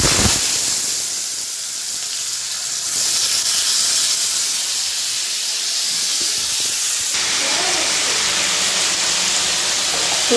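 Cut potatoes drop into a hot wok and fry with a steady, loud sizzling hiss that continues throughout, shifting slightly in intensity, with no talking.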